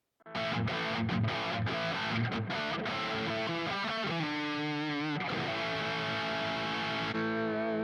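A heavily distorted electric guitar plays through a Neural DSP Nano Cortex pedalboard, loud chords and short riffs, ending on a sustained ringing chord.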